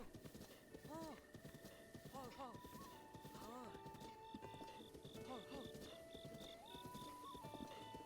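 Horse hoofbeats and neighs in Breath of the Wild, with several whinnies over galloping clip-clop and sustained game music tones, plus a voice speaking over it.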